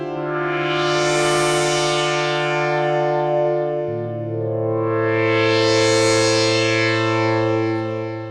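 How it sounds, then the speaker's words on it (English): A DSI Pro 2 synthesizer pad with distortion modulated by the mod wheel plays two long, swelling sustained notes. The bass moves down about halfway through, and the bright, gritty tone rises and falls with each swell. "I'm also gonna add mod wheel modulation for distortion as well."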